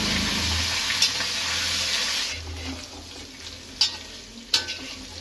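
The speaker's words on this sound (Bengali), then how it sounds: "এবার পনিরগুলো হালকা ভেজে নেব।" Paneer pieces frying lightly in ghee in a kadai over lowered gas, a dense close hiss and sizzle that eases after a couple of seconds, with a few sharp clicks of utensil contact near the end.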